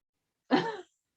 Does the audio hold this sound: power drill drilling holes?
no